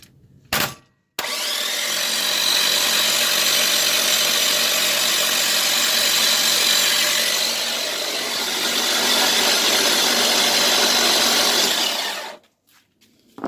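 An LS 5.3 V8 engine runs at a steady, loud idle for about ten seconds, cutting in abruptly and fading out near the end.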